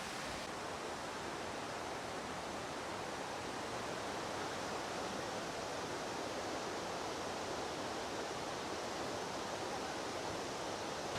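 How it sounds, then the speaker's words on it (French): Waterfall at the foot of Mount Fuji, a steady broadband roar of falling water that stays loud and unbroken throughout, close by, with no voices. "Ces chutes sont vraiment magnifiques."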